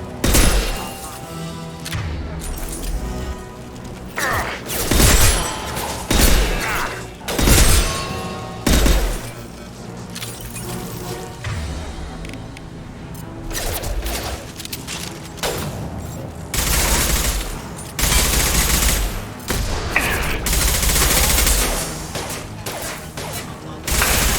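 Bursts of gunfire and heavy impact shots thud and crack repeatedly across a combat scene in Mass Effect 2, with sharp blasts, rattling volleys and booms, mixed with game character voices.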